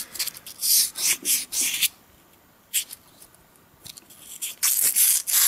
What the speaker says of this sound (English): So what I was doing was just running a bit of sandpaper on the inside here